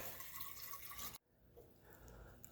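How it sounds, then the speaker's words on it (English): Distilled water pours steadily into a container being filled nearly to the lip, a bright running splash that cuts off abruptly partway through, leaving a quieter dripping trickle afterward. "we're going to go ahead and fill this full of distilled water to within 3/4 of an inch to the top"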